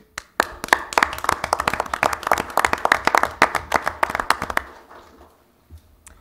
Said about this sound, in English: they deserve a round of applause, even though they don't want it